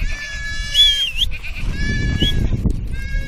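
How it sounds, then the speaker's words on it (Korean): Goats bleating in an open field, several long, wavering cries in close succession, loud and near over a low rumble of ambient noise. "형과 같이 더부살이를 하는 마푸토는 염소를 돌보고 있습니다"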